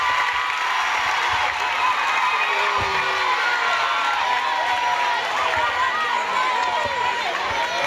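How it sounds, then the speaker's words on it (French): A school gathering audience applauds and cheers in a steady, dense wash of clapping and voices that fills the room throughout, with shouts rising here and there. "Mais applaudissons très fort."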